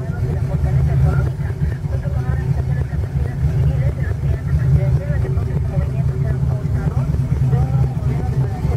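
A 1969 Ford Mustang engine runs at a steady idle, a continuous low rumble held without revving for several seconds, close and fairly loud throughout.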